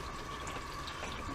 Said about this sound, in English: So you start with about 2 pounds of russet potatoes, which I'm just going to give a wash.